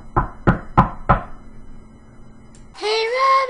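Four crisp knocks on a door in a steady, even rhythm, close and distinct, followed by a pause and then a voice speaking.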